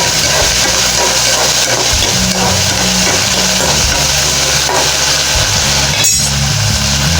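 Chopped cluster beans stir-fried in garlic oil, a loud continuous sizzle and hiss with an occasional scrape of the spatula.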